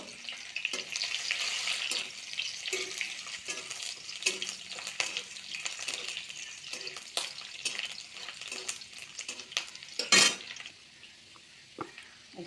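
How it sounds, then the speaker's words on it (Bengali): Onions hit hot oil in a pan while cooking a Bengali-style chole curry, giving a loud, steady sizzling hiss that carries throughout with a few faint clinks and stirring sounds. "তেল গরম হয়ে গেছে, পেঁয়াজ দিতেছি"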